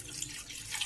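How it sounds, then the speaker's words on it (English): Water is poured into a pot of Ogbolor soup with bitter leaf, a brief, steady splashing rush with no talk. "let's add water to it"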